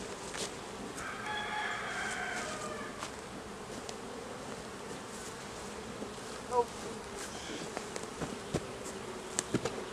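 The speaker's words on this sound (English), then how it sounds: "Bees aren't really too happy, but I mean, they're not gonna be too aggressive," Honey bees hum steadily around an open beehive during inspection, a constant soft drone with faint buzzing passes and a few light knocks, no talking heard.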